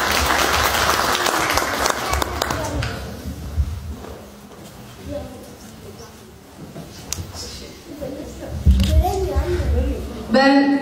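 An audience at a poetry reading applauds for poet Fatma Özger Bilgiç, clapping strong at first then thinning, with voices and movement noise breaking through in the latter half.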